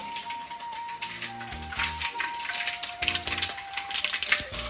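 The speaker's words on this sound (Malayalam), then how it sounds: "കടുക് പൊട്ടിക്കാൻ പോവാണ്." Mustard seeds crackle and pop in hot coconut oil in a Kerala home kitchen, a dense, steady patter of sharp snaps that grows busier toward the end, heard close with no talking.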